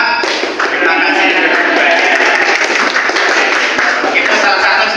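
Rhythmic group clapping routine from an audience at a youth Red Cross trainer orientation, a dense continuous patter of many hands clapping in unison, loud and steady throughout, with voices mixed in.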